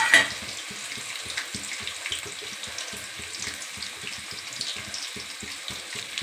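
Whole spices (cardamom, black pepper, cinnamon, cloves, fennel and marathi moggu) fry in a pan, giving a soft, steady sizzle with rapid small crackles throughout, fairly quiet and without voices.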